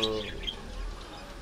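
A brief, high chirp from a caged lutino parakeet right at the start, followed by soft, steady background noise with faint twittering.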